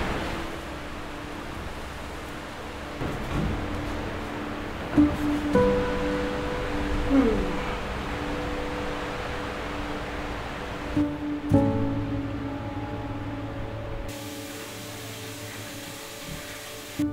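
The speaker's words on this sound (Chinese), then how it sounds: "外面的这个大海、风的声音更真实的传过来" Sea waves and wind heard from an open balcony door on the Oki Islands, Japan: a broad steady wash of surf and breeze with faint tonal hums, ending in a quieter muffled stretch, no speech.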